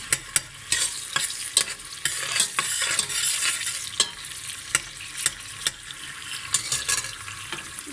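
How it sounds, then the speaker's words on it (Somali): Onions frying in oil in a pot crackle steadily up close, broken by repeated sharp spoon knocks and scrapes against the pot as they are stirred, with no speech. "waakaasaa basashii iyo saliidda isku karsamay wax badan ma karinayo insha Allah"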